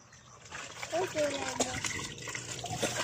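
Water runs from a newly built hand pump, splashing and trickling into a bowl in a steady, close stream while a voice speaks over it.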